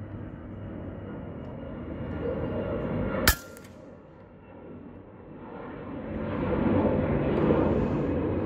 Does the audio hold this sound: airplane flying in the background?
yes